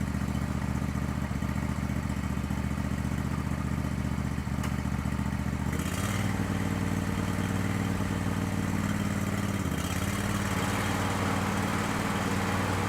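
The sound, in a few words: Troy-Bilt 809H garden tractor running in low gear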